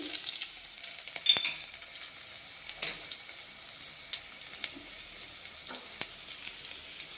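Mustard seeds, cumin and garlic frying in a couple of spoons of hot oil for a fenugreek dal: a soft, steady sizzle with scattered small crackles and pops, fairly quiet and close.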